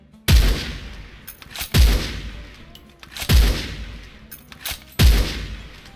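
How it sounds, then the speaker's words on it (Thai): Four loud, sharp shots from a Dragunov SVD Red Dragon sniper rifle in Special Force 2, fired continuously at an even pace of roughly one every one and a half seconds, each followed by a booming decay. "นี่ครับความเร็วในการยิงต่อเนื่องนะครับผม"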